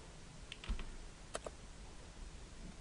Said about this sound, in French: C'est quand j'appuie sur la touche CTRL